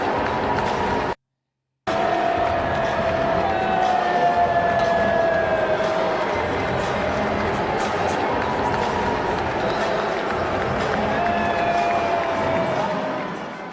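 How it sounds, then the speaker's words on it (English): A stadium crowd at a match boos through the Star Spangled Banner, a loud, dense, sustained roar of many voices with faint tonal strains above it, broken once by a brief moment of silence near the start. "It's giving whoever recorded that, their section was booing."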